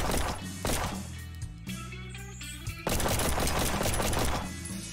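Bursts of automatic gunfire from a video game shooting range rattle loudly as mannequins are shot, coming in several strings of rapid shots separated by a brief pause with thudding hits.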